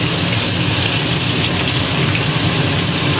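Fish fries in a hot pan for a home-cooked Bengali meal, giving off a loud, dense, unbroken sizzle with a fine crackling spatter throughout.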